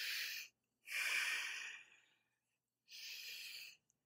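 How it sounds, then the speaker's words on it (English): Slow breathing through the nose during a yoga session: three close, airy breaths in and out with short silent gaps between them, and no talking. "breathing through the nose."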